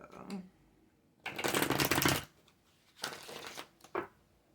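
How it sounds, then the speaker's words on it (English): Tarot cards are shuffled in two brisk riffling bursts, close up, separated by quiet moments with a few soft handling sounds. "maybe I should shuffle it a little more"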